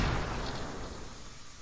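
Explosions in the video game Musashi: Samurai Legend, a loud, dense burst of booming blasts fading slightly over a second and a half, with no talk over it.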